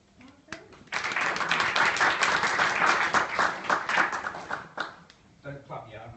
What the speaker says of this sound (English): Don't clap yet, I haven't started.